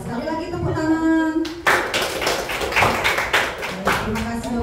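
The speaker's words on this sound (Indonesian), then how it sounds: "Ya, sekali lagi tepuk tangan." Audience of teachers clapping at a school dissemination session, a burst of somewhat uneven hand claps with thumps, following a sustained sung or spoken tone and fairly close.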